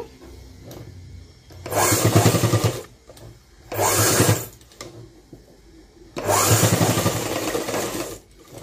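Sewing machine stitching a school uniform, three separate loud bursts of rapid mechanical whirring with short quiet gaps of handling between runs.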